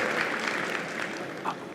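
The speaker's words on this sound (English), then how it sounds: "A nice round of applause." Audience applauding at a conference plenary session in Switzerland, a steady wash of many hands clapping that holds fairly even for the whole moment, with a slight swell near the end.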